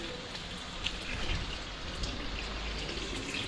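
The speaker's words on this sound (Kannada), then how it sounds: "ಪೂರ ಬರ್ತಿದೆ ನೀರು." Water runs from a household tap in a faint, steady rushing stream with light splashing, heard alone with no talking.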